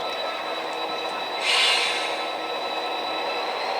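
A local switcher train rolls past on its way toward Huntington Beach, a steady broadband rumble of rail cars with a brief louder hiss and wheel squeal midway, close and continuous with no talking.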